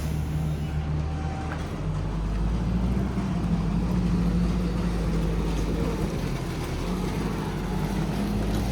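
A farm tractor hauls a load of harvested barley, its engine a steady low drone that holds fairly close and even throughout.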